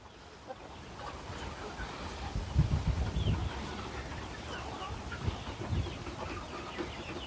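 A Rhode Island chicken clucks in short, soft bursts amid faint outdoor rustling, with a few louder low clucks near the middle.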